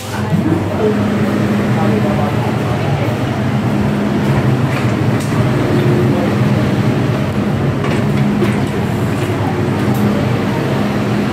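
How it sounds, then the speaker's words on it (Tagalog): Steady, loud rumble and rattle inside a long, moving Hong Kong MTR subway train on the Red Line between Tsuen Wan and Central, continuous throughout with faint voices in the carriage. "So ito yung train sa loob, napakahaba."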